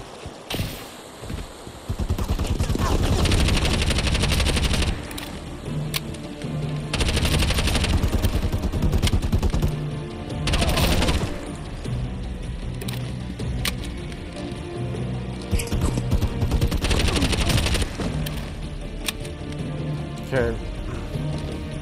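Gunfire in the action shooter Bright Memory: Infinite: long loud bursts of automatic fire alternate with brief pauses, close and punchy, while someone talks over parts of it.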